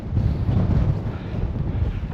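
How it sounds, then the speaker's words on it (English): Gale-force wind buffets the microphone on a blustery morning in Folkestone, a loud low roar that rumbles and surges continuously with no speech. "gale force and storm force winds currently blowing in"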